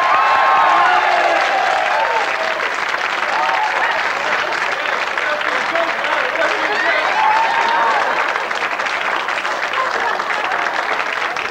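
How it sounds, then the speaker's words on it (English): An indoor audience gives a sustained round of applause, with dense clapping held at an even level for about eleven seconds. A few voices and faint cheers rise through it. "I think a round of applause is deserved."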